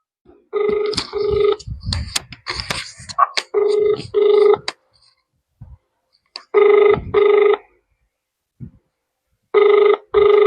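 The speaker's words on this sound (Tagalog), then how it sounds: "may tinatawagan tayo" A telephone rings repeatedly during an outgoing call, sounding in loud, evenly spaced double bursts separated by pauses. Before the rings, close voices talk and laugh over them.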